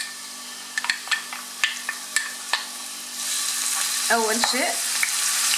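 Onions frying in a pan for a savoury stuffed bread filling: a steady broadband sizzle rises and holds after scattered clicks of handling, with a brief voice speaking over it.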